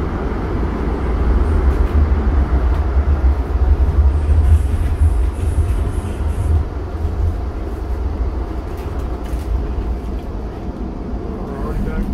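A Calgary Transit Siemens Duewag U2 light rail train, car 2090, braking in winter, a loud heavy low rumble that holds steady throughout, close and continuous.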